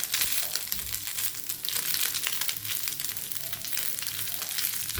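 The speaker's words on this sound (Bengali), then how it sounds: "এটাতে সরিষার তেল দিয়ে ভাজি কিন্তু আজকে ভুলবশত সয়াবিন তেল দিয়ে করছি" Food frying in soybean oil, a steady dense crackling sizzle with many small pops, loud and close, with no voices.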